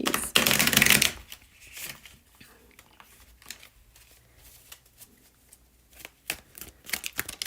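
Tarot cards are shuffled by hand close up. A loud opening riffle is followed by quieter, irregular papery flicks and taps.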